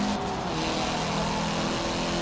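Mitsubishi Lancer Evolution IX engine in a Forza Motorsport 7 spec race, a steady close drone under hard throttle with no letup across the short stretch.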